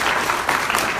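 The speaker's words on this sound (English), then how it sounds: "Let us give our elder, pioneer, and a long-time fighter for us a round of applause." A crowd at a reparations and self-government convention in DC applauds an elder, producing a continuous loud wash of clapping and cheering with no gaps.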